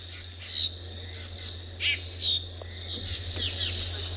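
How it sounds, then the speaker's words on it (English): Several drongos give sharp, whistled calls and chirps at intervals at dusk over a constant insect drone, with no one speaking. "Drongos. Mostly drongos. They're often the last of the daytime birds to call."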